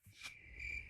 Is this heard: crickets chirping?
yes